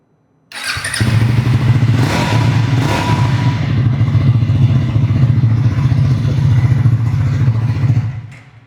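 A 2026 Triumph motorcycle with a dual-barrel exhaust starts with a loud close thump and then settles into a steady, throbbing idle that lasts several seconds before cutting off.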